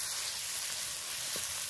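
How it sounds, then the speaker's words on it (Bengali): Boiled potato sautéed with spices in a pan gives a continuous close hiss of frying, even and unbroken across the brief moment with no voices. "আলুটা দিয়েও ভালো করে কষিয়ে নেবো"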